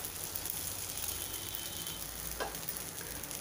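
Masala dosa roasting on a hot tawa gives a continuous, even sizzle at moderate volume, with a faint scraping accent partway through and no talk.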